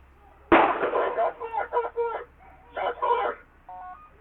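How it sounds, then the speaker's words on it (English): A single sharp, loud gunshot cracks out during a police struggle, followed by shouting voices that rise and fall over the next few seconds. "Shots fired. Shots fired."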